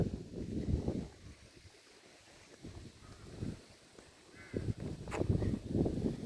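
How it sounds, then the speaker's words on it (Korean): Gusty wind at Hupo Port on Ganghwa Island buffets the microphone in strong, rumbling surges that fade and return, with a faint bird call in the distance. "바람이 갑자기 돌풍 바람이 불어대고 있습니다"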